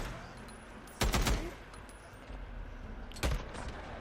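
Gunfire in the video game Days Gone during a headshot kill: two loud, close bursts of rapid shots about two seconds apart over steady game ambience, with no talk.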